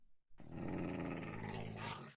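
A pet dog growls in the Minecraft FTB New World modpack, one continuous low, rough growl lasting about two seconds, close and fairly loud with no talk over it.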